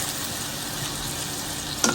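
Eggplant, potato and onion frying with river fish and vegetables in a pan, a steady close sizzle with stirring scrapes running throughout and a brief clink near the end.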